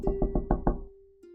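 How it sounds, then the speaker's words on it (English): Five quick, evenly spaced knocks on a wooden door, close and crisp, followed by silence and a faint low hum. "Then, knock, knock, knock."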